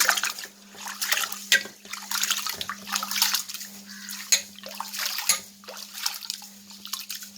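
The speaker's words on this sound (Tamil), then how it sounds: "ஒரு த்ரீ டைம்ஸ் வாஷ் பண்ணிவிட்டு அதுக்கப்புறம் அப்படியே வச்சிடலாம் அரிச்சிக்கணும் கைனாலே" Raw rice washed by hand in a bowl of water gives close, quiet swishes, drips and gentle sloshing in irregular bursts over a faint steady hum.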